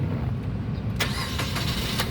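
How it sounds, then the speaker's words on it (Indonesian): The engine of a 2018 Suzuki Karimun Wagon R 1.0 GL manual car cranks and fires, then settles into a low, steady idle close by, with a few sharp clicks over the rumble. "nah berikutnya sekarang kita coba nyalakan mobil ya"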